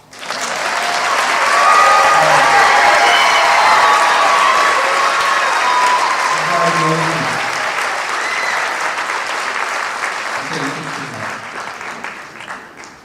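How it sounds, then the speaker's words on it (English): A large crowd applauds continuously at a college commencement ceremony, a dense, loud wash of clapping that swells early and slowly tapers, with faint voices underneath. "You can applaud"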